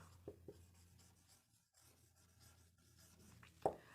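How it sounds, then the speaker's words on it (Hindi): Pen writing a sentence by hand on paper, a soft continuous scratching with a few louder taps and strokes, close and quiet. "चलो मैं एक सेंटेंस और लिखती हूँ"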